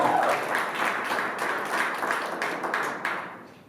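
Wedding guests applaud during a bilingual French and English ceremony, a dense, steady burst of clapping that holds for several seconds before thinning out toward the end.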